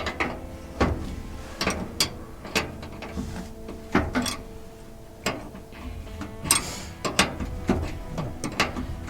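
Ratchet wrench tightening a leaking factory fitting on a 1955 Ford F100 truck, giving repeated sharp mechanical clicks in short irregular bursts, close and fairly loud, with no talk.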